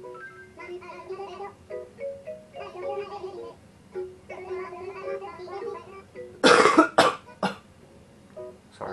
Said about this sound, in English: Sorry about my bad cough.